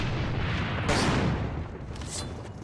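A grenade explosion in an armored-combat video game, a sharp loud blast near the one-second mark followed by a rumbling decay, set against ongoing gunfire and battle noise.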